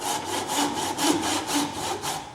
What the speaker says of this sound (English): Because you've got 2 saw cuts there already, you can just put your saw in